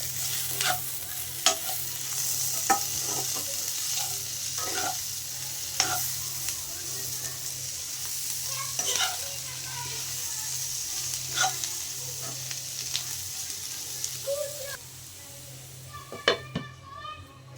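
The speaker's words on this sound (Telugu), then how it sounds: "దొండకాయ ముక్కలు ఇప్పుడు స్మూత్గా కుక్ అయిపోయినాయి." Ivy gourd pieces stir-fry in a pan with a constant, close sizzle. Repeated spatula taps and clinks against the metal are scattered across it, and a sharper clatter comes near the end.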